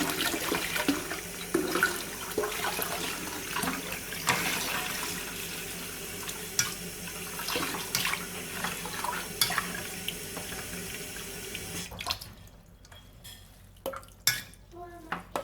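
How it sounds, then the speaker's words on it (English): Sea moss rinsed in a strainer under running water: a continuous rush of tap water with splashing and handling noises, then the flow stops near the end, leaving a few clinks and faint movements. "So just use your strainer and give it a nice rinse."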